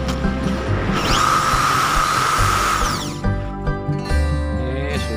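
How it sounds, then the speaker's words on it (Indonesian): Electric drill with an ordinary bit widening a drilled hole in metal, a loud steady whine for a few seconds, then spinning down with rattles and clicks nearby. "kita bor-bor untuk membesarkan tempat bor ini"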